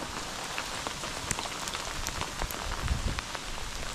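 Rain and hail pelt down during a thunderstorm outdoors, a dense steady hiss of drops with scattered sharper hits and a low rumble of wind.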